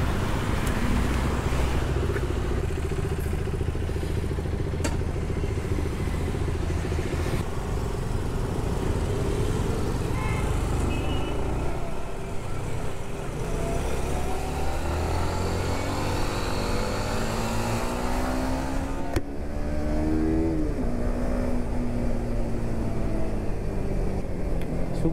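Motorcycles ride along a road at dawn on the way to Nandi Hills, giving a steady engine drone mixed with heavy wind rush. Engine pitch rises and falls as the bikes speed up and shift, and nobody talks.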